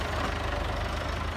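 A tractor engine runs nearby, a steady, loud, low rumble with an even pulsing throb through the brief stretch.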